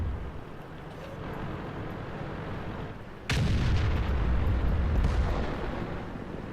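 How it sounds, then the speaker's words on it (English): A booming cannon shot from a Waffenträger tank destroyer in the World of Tanks video game, one heavy blast midway that rolls out into a long rumbling tail over steady battle ambience, no talk. "What's shooting? Is that the Waffenträger?"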